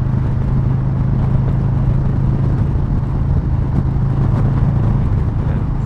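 Harley-Davidson Low Rider S motorcycle cruising in fifth gear at about 75 mph on a Los Angeles highway, a steady loud engine drone mixed with heavy wind rush, no talking.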